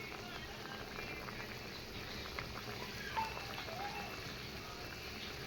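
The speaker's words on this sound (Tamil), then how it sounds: "நல்லா கொதிக்குது பாருங்க." Soft, continuous bubbling of thick tomato chutney simmering in a pot, quiet and steady, with an occasional louder pop.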